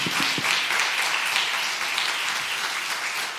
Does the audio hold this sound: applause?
yes